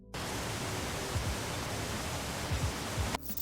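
An AI-generated waterfall gives a steady, dense rushing roar of falling water that runs without a break for about three seconds, with a few low thumps underneath, then cuts off abruptly.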